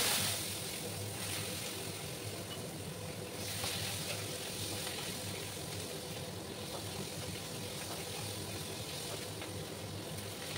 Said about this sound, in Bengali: পেঁয়াজগুলোকে একটু ভেজে নেবো আমি